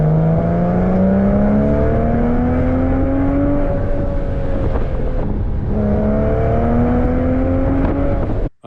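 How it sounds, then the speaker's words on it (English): A Porsche 986 Boxster Spyder's aftermarket exhaust drones loudly as the engine revs and pitch climbs through two gear pulls, with a brief dip between them, close and steady. "So now it's time for the first test drive."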